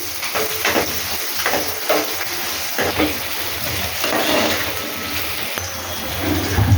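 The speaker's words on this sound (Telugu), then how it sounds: "కడాయిలో నూనె పోయాలి. ఉల్లిపాయలు పచ్చిమిర్చి ఇలా వేసేసుకోవాలి. బాగా వేగనివ్వాలి." Onions and green chillies fry in oil in a kadai, giving a steady broadband sizzle with scattered crackles and stirring scrapes throughout, close and moderately loud with no talk.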